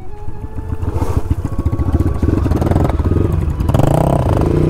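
A motorcycle passes close by on a mountain road in Mustang, Nepal, its engine chugging in a rapid, rhythmic put-put that swells louder and rougher as it nears and revs, dominating throughout.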